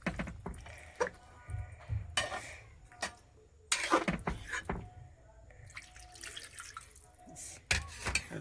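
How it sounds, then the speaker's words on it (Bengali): A little water is poured into a cooking pan in short splashing bursts, followed by drips and clatter at close range. A voice is faintly present. "এবার একটু জল দিয়ে দেব, অল্প একটু জল দিয়ে দেব, ভালো করে একটু সিদ্ধ হবে।"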